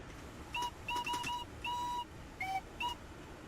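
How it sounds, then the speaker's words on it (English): A two-tone steam train whistle in a railway video game, sounding in a series of short and longer blasts with gaps between them, clear against a quiet background. "I just love the two-tone whistles."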